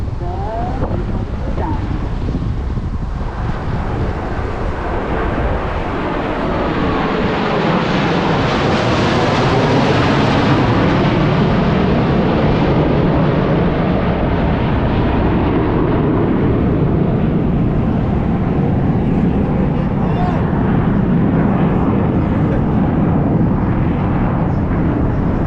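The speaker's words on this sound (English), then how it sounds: "Relatively slow speed flight, they will give you an opportunity to get a close look at the precision formation line" Four Blue Angels jets in slow precision formation pass by at an airshow, a broad continuous roar that swells and holds for many seconds, mixed with wind noise and crowd ambience.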